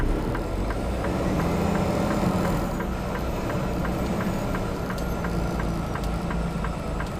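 Penske truck maneuvering toward a loading dock, a steady loud engine rumble with tonal whine and periodic ticking, continuous throughout, no talk.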